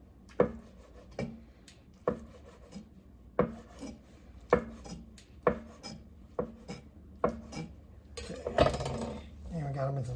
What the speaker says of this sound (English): you roll it up a little bit and you just cut it into ribbons